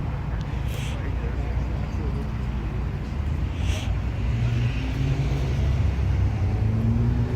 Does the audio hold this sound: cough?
no